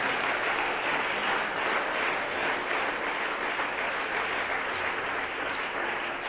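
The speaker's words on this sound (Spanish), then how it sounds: "Denle ese aplauso a Dios porque Él está aquí." A church congregation applauding, with steady dense clapping that holds evenly throughout with no voices on top.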